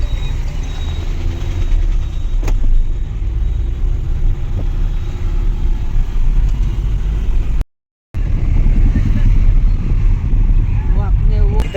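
A car driving along a road gives a loud, steady engine and road rumble that runs through most of the stretch, with a brief dropout partway and people talking inside the vehicle.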